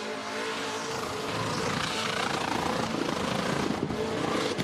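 A Fordson rat rod with a 6-litre LS V8 roars at a Summernats car festival, its exhaust a sustained loud rumbling drone with rising revs, close and unbroken, with no talk over it.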